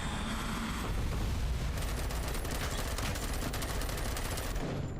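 Rapid gunfire fills a firefight in Dune: Awakening as dense bursts of automatic shots rattle continuously, growing thicker midway, with explosive booms mixed in and no pause.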